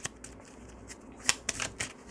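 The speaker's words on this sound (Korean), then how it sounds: "조언 카드 하나 뽑아볼게요" Tarot cards slide and snap softly as one is drawn from the deck, a few quick, close papery flicks and taps.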